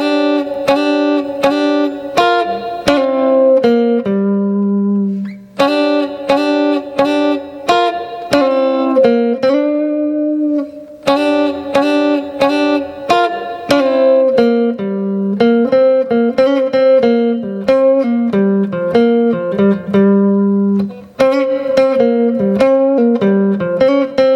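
A clean guitar plays a melodic blues etude in G of single notes and short phrases, with slides, steady and close, with brief pauses between passages.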